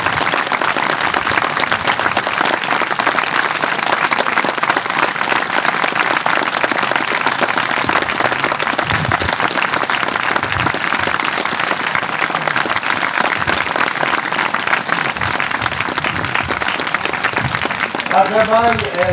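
A large audience claps steadily for a long stretch, making a dense, sustained wash of applause, and a voice briefly joins near the end.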